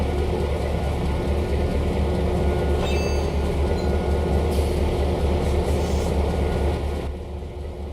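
Maintenance train cars, including overhead-line cars, roll slowly through a rail yard in the Trainz simulator, a steady low rumble with faint rhythmic clatter and a brief squeal near the middle, fading slightly at the end.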